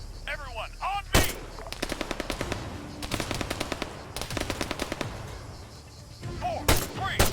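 Sustained machine-gun bursts in the video game Arma III, rapid rhythmic volleys of shots repeating in several strings with single louder gunshots between, dense and fairly close, with faint voice activity in the background.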